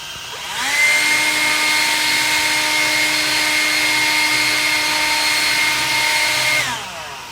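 A steady, loud whooshing roar of a leaf blower aimed at a GPS toy helicopter in a backyard runs for several seconds, starting and stopping cleanly, with a high-pitched whine riding on top.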